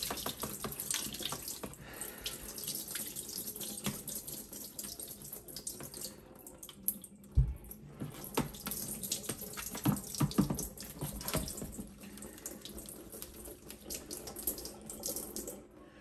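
Tap water runs steadily for rinsing while cooking spaghetti with ground meat, a continuous hiss of flow from a faucet with a brief clunk midway and no talk.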